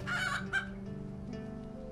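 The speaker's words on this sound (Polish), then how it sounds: "Proszę kury, ale nie widzę." Chickens in the Robin Hood – Sherwood Builders video game give a short crowing, clucking call up close and fairly loud, then fade into a quiet low hum of game ambience.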